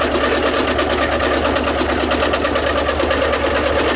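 A milling machine runs continuously at close range, a loud steady mechanical drone with a fast rhythmic whir and no pauses.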